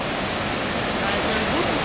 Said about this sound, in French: Ça, c'est la rivière Rupert